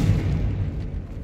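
A Confringo blasting spell goes off in the Hogwarts Legacy video game, a dense, heavy low boom that rumbles on steadily for its whole length, loud and close with no talk over it.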